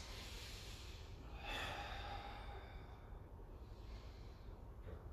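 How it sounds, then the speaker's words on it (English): Several people in a karate class draw slow, deep breaths together, with a soft swelling inhale-exhale rush near the middle over a steady room hiss. "Take a couple of breaths."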